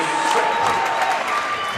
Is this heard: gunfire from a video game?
no